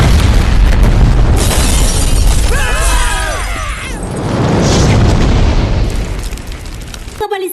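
A bomb goes off at Rangabali Centre: one loud, sustained blast with shattering debris and a roaring rumble. A brief whistling, wailing tone rises midway before the noise cuts off abruptly near the end.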